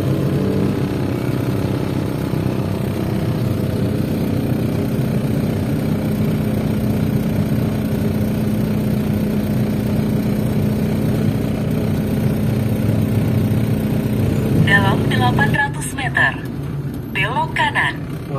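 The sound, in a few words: motorcycles and cars in a Malaysian traffic jam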